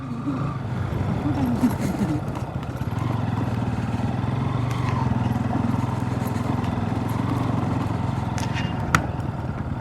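A motorcycle engine labours steadily up a steep, rough hill road, a close, continuous throaty drone that rises and falls slightly with throttle, with brief voices briefly over it.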